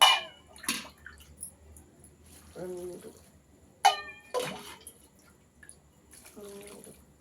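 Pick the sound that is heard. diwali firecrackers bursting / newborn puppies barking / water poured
water poured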